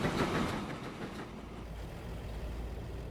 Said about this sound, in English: Here comes that train.